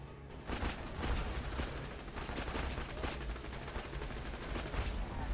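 Borderlands 2 gunfight with a grenade bursting among continuous rapid gunfire, a dense, loud barrage of shots and blasts running throughout with no pause.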